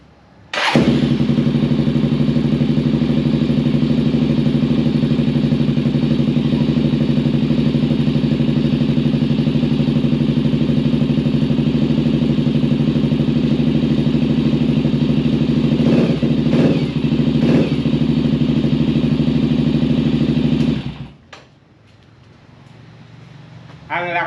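A Motorstar Cafe400 motorcycle with a modified exhaust runs close by, a loud, steady, low rumbling drone held for about twenty seconds before it shuts off.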